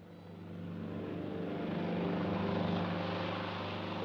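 A propeller plane bound for Lisbon drones steadily, its engine rumble swelling gradually louder as it nears, with no talk.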